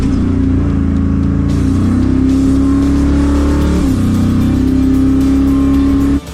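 A Chevrolet Malibu driven by a young girl launches on a drag strip pass, its engine roaring loud and steady with a rising, revving pitch throughout before cutting off abruptly at the very end.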